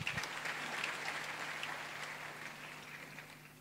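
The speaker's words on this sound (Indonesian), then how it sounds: "Kita berikan tepuk tangan buat Tuhan." A church congregation applauds for God during a sermon, giving steady, dense clapping from many hands that continues throughout with a faint low hum beneath.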